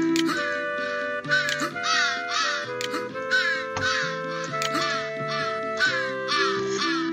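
A raven in the video game Santa Claus In Trouble caws repeatedly in harsh, rhythmic bursts, loud and clear over a steady synthesized game-music backing.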